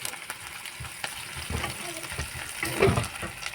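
Potatoes frying in a pulao pan with chicken, a continuous sizzle broken by scraping stirring strokes that swell louder toward the end.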